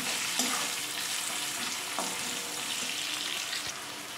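Onions frying lightly with salt in a pan, a dense, continuous hiss of sizzling oil with a couple of soft stirring scrapes, close and steady with no voices.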